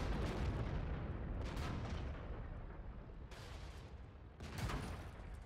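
Bursts of gunfire in a competitive online shooter match, sharp loud volleys at irregular intervals over a constant rumbling background, with no talk during the shots.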